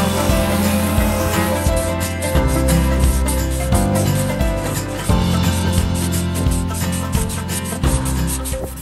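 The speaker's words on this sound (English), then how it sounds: "And now finally with the palm sander, we're moving on to 320 grit." A palm sander with 320 grit paper works over a wooden charcuterie board, a loud steady buzzing rasp that carries on without pause, close up, with strokes that swell and ease every second or so and no talking.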